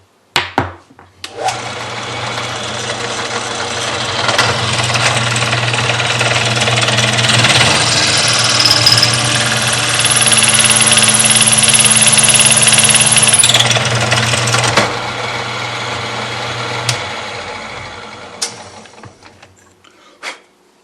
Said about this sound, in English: go to the drill press, lock this down in the pin blank vise, and we'll barrel trim it